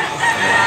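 A black Hennie rooster gives a short, loud crowing burst up close, heard alone.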